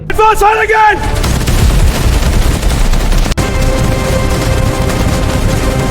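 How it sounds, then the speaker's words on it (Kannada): Loud gunfire rattles continuously in a shootout between outlaws and British police, with bursts and booms layered over a dense, rumbling battle din after a short musical opening. "ಅಲ್ಲಿ ಲಕ್ಷ್ಮಣನ ತಂಡ ಮತ್ತೆ ಬ್ರಿಟಿಷ್ ಪೊಲೀಸರ ನಡುವೆ ಗುಂಡಿನ ದಾಳಿ ನಡೆಯುತ್ತದೆ"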